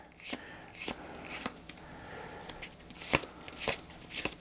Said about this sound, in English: I'm just going to flip through and show you all the different cards that you can get in the game